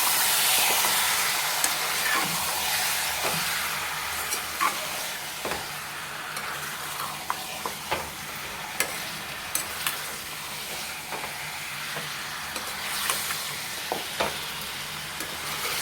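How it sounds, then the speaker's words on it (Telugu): Chicken pieces are stirred into masala in a hot pan for a gravy chicken curry. A loud, continuous sizzle runs throughout, punctuated by irregular clinks and scrapes of the spoon. "అయితే చికెన్ వేసుకుందాం. ఇందులో మంచిగా కలుపుకోవాలి."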